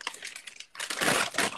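Packing paper saved from a package is crumpled and flattened by hand, a soft crinkle at first, then a louder, dense burst of rustling and crackling over the second half.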